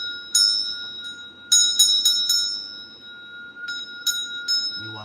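A small ringing bell is struck repeatedly in irregular clusters, bright metallic strikes with lingering tones, close and loud, ending with a low rustle.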